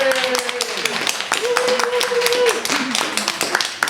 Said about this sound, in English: So could we have a round of applause for the volunteers?